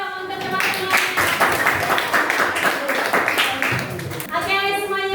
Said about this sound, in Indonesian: Tepuk tangan dong untuk teman-teman.